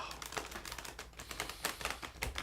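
A light, easy-to-shuffle tarot card deck is shuffled close by, giving rapid crisp riffling and tapping bursts in an uneven rhythm, quiet and alone with no talking.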